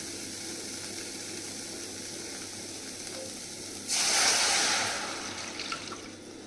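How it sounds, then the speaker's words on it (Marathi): Soup poured into a hot pan of sautéed drumstick pods (moringa) on a stove brings a sudden loud sizzling hiss partway through, after a quieter stretch of faint cooking noise, then slowly eases off. "थोडंसं परतलं की आपल्याला सूप टाकून द्यायचं आहे त्याच्यामध्ये."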